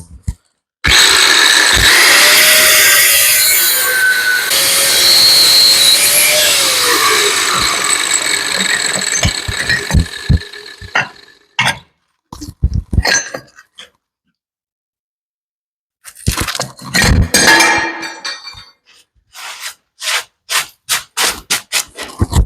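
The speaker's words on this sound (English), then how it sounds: "So I'm just gonna gracefully go after this with the cutoff wheel on the grinder." An angle grinder's cutoff wheel cuts into an axle part during axle seal work, giving a loud, close, sustained shrieking grind with shifting pitch for about ten seconds, followed by scattered clanks and short rasping bursts.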